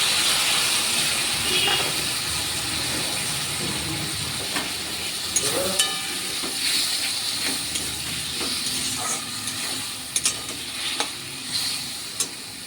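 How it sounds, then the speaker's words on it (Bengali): Poppy seed paste ground with green chillies frying and being stirred in a pan: a continuous hissing sizzle with repeated scraping and tapping of a spoon, close and fairly loud, no talking. "এখন আমি দিয়ে দেবো পোস্ত চারটে কাঁচা লঙ্কা দিয়ে আমি পোস্তটা বেটে নিয়েছি"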